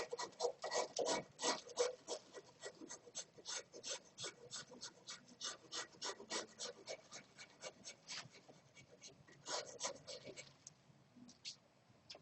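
An orthotic foot model is smoothed with a rasp, producing rhythmic scraping strokes that come in steady bursts and then thin out toward the end, close and fairly quiet, with no speech.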